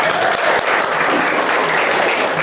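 A classroom of children clapping their hands together in a loud, dense burst of applause that fills the whole moment without a break.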